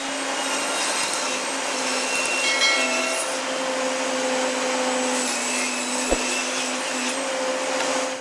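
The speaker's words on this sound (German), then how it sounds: "Jetzt habe ich mir hier meine Tischkreissäge auf 5 mm Tiefe eingesetzt und werde jetzt beide Hölzer in der Mitte schneiden" A table saw cuts a 5 mm deep groove down the middle of a piece of wood with a steady, loud whining roar that barely changes for several seconds, and one brief knock sounds partway through.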